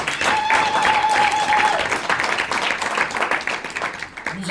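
An audience at a formal installation ceremony in Luxembourg breaks into sustained applause, thick clapping that gradually thins toward the end, with a faint tone and a voice briefly audible.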